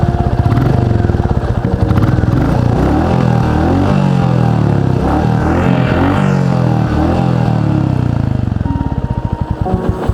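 A stock 2021 Royal Enfield Classic 350 single-cylinder motorcycle thumps at idle with a deep, pulsing exhaust beat, revving up a few times before settling back to a steady, close chug.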